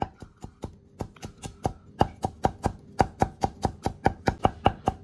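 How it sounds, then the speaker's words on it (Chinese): A knife chops scallion, ginger and garlic on a cutting board for Northeastern-style vinegar cabbage: steady, rhythmic sharp thuds, close and clear, speeding into an even run of about four strikes per second, with no talk. "接下来把这个葱姜蒜切一下啊"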